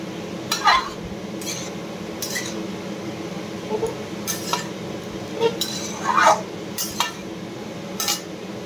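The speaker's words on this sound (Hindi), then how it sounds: "सारू पोई आलू मंजा को भल भाबे कषिबा तेल रे" Taro, potato and banana flower being tossed in hot oil in a pan for an Odia-style dish, with repeated clinks and scrapes of a utensil against the pan over a steady low background hiss.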